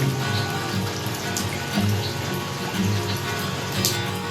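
Rain falling on a rainy day in the Philippines, a steady, close patter of drops on surfaces with scattered louder drips, continuous and alone throughout.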